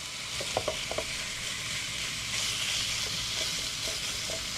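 Garlic butter pork bites searing in a pan, a loud continuous sizzle with a few brief clinks and taps from the pan early on.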